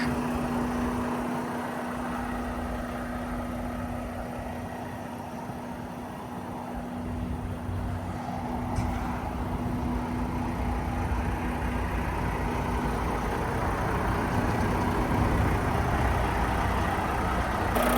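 A 2026 Mack Pinnacle truck with an MP8 505-horsepower engine idling, a steady low rumble with a constant hum held evenly throughout, moderately close and with no voices.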